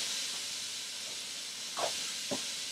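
Water sprays steadily over a freshly cleaned bonnethead shark to rinse off blood, a continuous close hiss with a couple of brief splashy bumps near the end and no voices.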